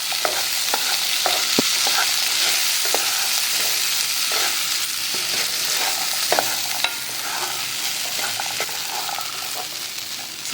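Black chana with onion and carrot tossed in a pan, a continuous close sizzle broken by frequent spoon scrapes and taps against the pan while being stirred.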